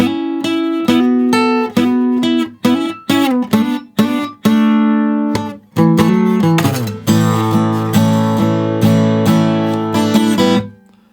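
An acoustic guitar in standard tuning plays the intro to a song, a rhythmic run of plucked notes and chords with short pauses, ending in a fuller strummed passage, close and clear with no voice.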